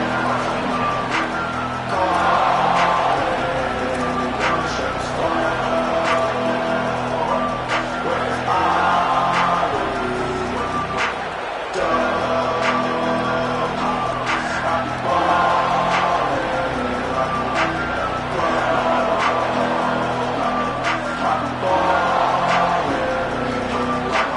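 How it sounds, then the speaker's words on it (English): Stadium crowd noise from a college football video game, a steady dense roar of massed voices and cheering that holds loud and continuous throughout, with a brief dip near the middle. "This crowd ready to make its presence known."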